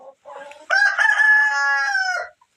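A Kuchinsky Jubilee rooster gives a single loud, close crow that rises and holds steady before cutting off, after a brief softer cluck at the start.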